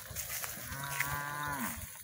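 Cattle at a salt trough low repeatedly, one drawn-out moo rising and holding before trailing off, over a busy background of other animals on the farm.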